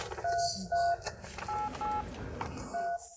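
A phone rings with a repeating electronic tone, short steady beeps in bursts, with a voice and background noise underneath.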